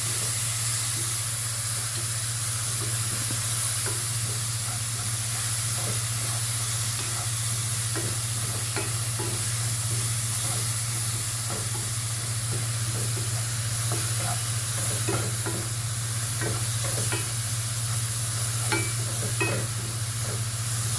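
Green masala paste of coriander, green chilli, curry leaves and mint sizzling and frying with chicken in a pan, a steady close hiss with occasional stirring scrapes throughout, no talking.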